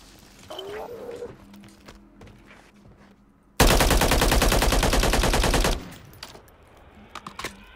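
Sustained automatic gunfire in the shooter Call of Duty MW3, a loud two-second burst from about 3.6 to 5.7 seconds, set between quieter game ambience with faint scattered shots and clicks.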